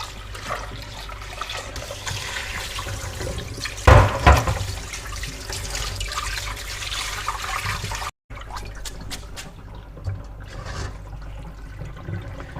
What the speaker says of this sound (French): Je vais rincer dans l'eau froide